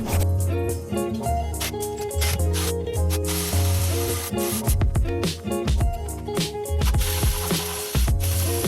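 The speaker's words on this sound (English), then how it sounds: "Remove 2 manifold bracket bolts." Ratchet wrench removing manifold bracket bolts on a 1987–1991 third-generation Honda Prelude, with rapid, loud metallic ratcheting bursts and clicks close up, mixed with background music.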